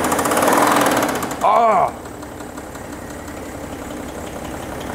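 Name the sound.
VW T5 engine revving with knocking, connecting rod bearing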